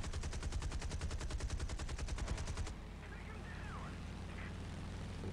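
Rapid automatic aircraft cannon and machine-gun fire in War Thunder, aimed at a Heinkel bomber, a steady loud burst lasting about two and a half seconds before cutting off to engine drone.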